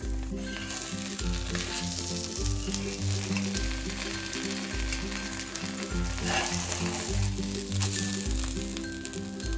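A potato-stuffed wheat chapati roasting on a pan over a medium-low flame gives a continuous soft sizzle, with a steady low rhythmic hum underneath throughout and no speech.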